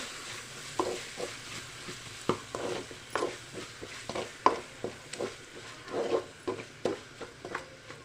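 Fish fries in oil with ginger garlic paste for a fish curry, a soft sizzle broken by a regular run of sharp spatula scrapes and taps against the pan, with no talking.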